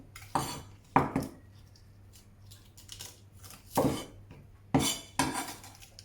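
A knife chops through cabbage leaves, trimming the thick stems, with several crisp, close cuts spaced irregularly and quiet gaps between them.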